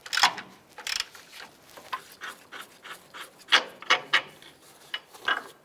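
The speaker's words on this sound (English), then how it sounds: "continue to loosen this rear control arm bolt" Ratchet wrench loosening the rear upper control arm bolt on a 2003-2012 Chevy Colorado, heard as a series of close, sharp clicking bursts in an uneven rhythm, with short pauses between strokes.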